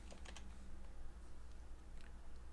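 A computer keyboard is typed on in a few quick clusters of soft, faint clicks over a quiet room hum, with short pauses between bursts.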